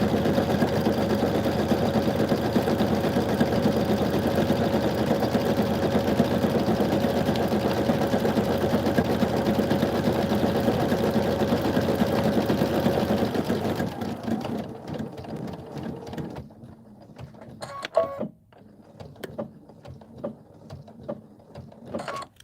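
A home sewing machine stitches a quilt panel, a steady close mechanical whir running for about thirteen seconds before stopping, followed by quieter handling noises and a brief clack.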